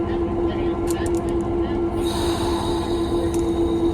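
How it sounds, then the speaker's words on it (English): A 1951 EMD diesel locomotive moves slowly on a museum turntable, a steady low rumble and engine hum with a sustained tonal whine and faint metallic squeaks, heard up close and continuous. "you'll actually see the locomotive go back and forth"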